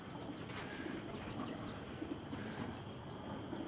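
Pigeons settling onto a roost at night, with soft low cooing repeated throughout under a steady murmur of background noise and faint wing flutters, no voices.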